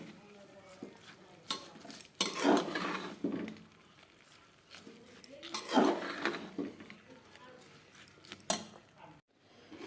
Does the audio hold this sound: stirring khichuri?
yes